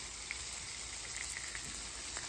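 Pepperoni slices toast in a hot pan with a steady, close sizzle and crackle, small pops scattered through the continuous frying hiss.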